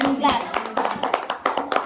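Children clap their hands in a classroom, a quick series of sharp, uneven claps close by, with voices mixed in.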